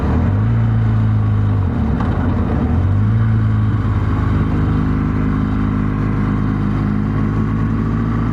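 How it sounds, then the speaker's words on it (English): A motorbike engine drones from behind, its pitch rising and falling as it revs, over the steady hum of a car interior. "Motorbike behind us."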